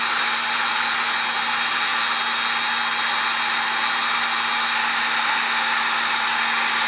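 A heat gun blows hot air onto a wax-covered capacitor in an RCA Radiola 61-5 radio restoration, a loud steady fan-and-air roar that continues without a break.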